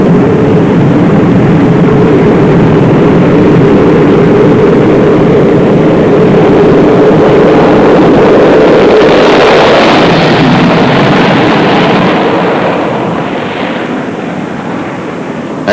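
Concorde supersonic airliner with smoky prototype engines takes off from Fairford, a loud sustained roar that swells and peaks before fading slightly as it passes, with no talk.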